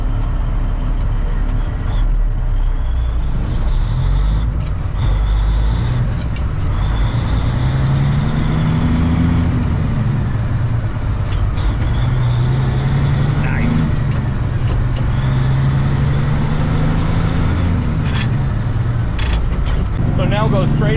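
A truck with twin stick gearboxes drives along, its engine droning steadily and rising and falling in pitch through the gear shifts, heard from inside the cab with people talking over it throughout.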